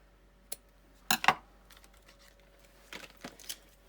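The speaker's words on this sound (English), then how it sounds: "Use my ribbon scissors." Ribbon scissors snip through ribbon while making snow globe cards: a few quiet, crisp cuts in short clusters against a near-silent room.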